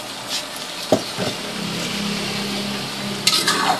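Flaked fried milkfish goes into a pan of string beans cooking as adobong sitaw. A couple of sharp clatters open into a steady sizzle and stirring, and a final scrape of a utensil closes it, all close up with no talk.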